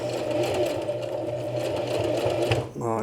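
A sewing machine stitches a small coin purse, a loud, steady mechanical whir close by that stops abruptly near the end.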